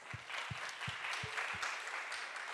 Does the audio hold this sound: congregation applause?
yes